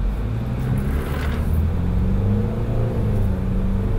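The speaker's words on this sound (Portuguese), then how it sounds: "é hora da gente sentir o ronco, na hora de exigir esse motor aqui com essa disposição biturbo, 190 cavalos" A Nissan Frontier's biturbo 190-horsepower engine roars steadily as the pickup climbs uphill, a loud continuous low rumble with rising drone and no speech over it.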